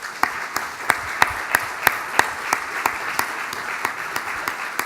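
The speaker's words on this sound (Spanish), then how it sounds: "un fuerte aplauso para ellos" An audience at a health-system conference luncheon applauds the speakers with steady, rhythmic clapping that carries on evenly for several seconds.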